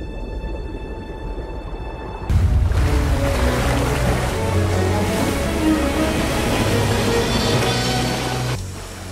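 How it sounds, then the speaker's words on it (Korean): A steady, deep mechanical drone of a U-boat submarine engine with a rumbling low hum sets in abruptly and runs continuously, loud and close, before cutting off near the end. "작동하는 엔진"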